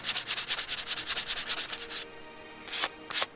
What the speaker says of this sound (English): good sanding down till it's matted.